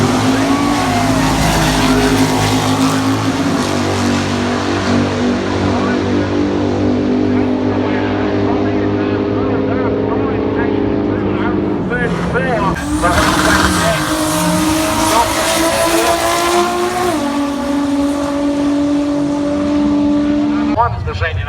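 A street drag racing car with a small-block engine roars loudly down the strip, its engine note rising through the gears with a brief shift break midway, while an announcer talks over the noise.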